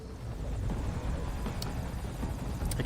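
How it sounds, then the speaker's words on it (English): A helicopter from the Metal Gear Solid V: Ground Zeroes video game throbs with a close, constant low rotor rumble and engine drone, heard alone without speech. "you start out in the helicopter"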